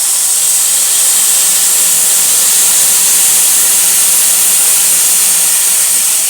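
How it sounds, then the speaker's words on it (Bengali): Water poured into a hot pan of vegetables bursts into a loud, steady steam hiss that fills the whole stretch without a break, close and unchanging. "দেখুন বন্ধুরা এবার আমি এতে জল দিয়ে দিলাম।"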